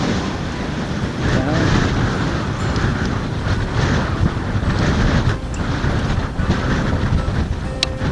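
Strong wind at the Grand Canyon North Rim buffeting the microphone in a steady, loud roar with gusty swells, no other clear sounds.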